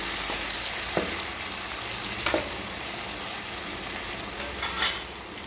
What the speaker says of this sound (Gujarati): એકદમ તેલમાં શેકાવા દેવાનું છે બધું